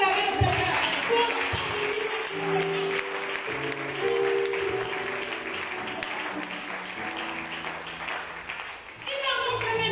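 Charismatic renewal congregation applauding inside the Cathédrale Notre Dame de l'Assomption, steady sustained clapping with some voices and a held musical tone under it, fading briefly near the end before resuming.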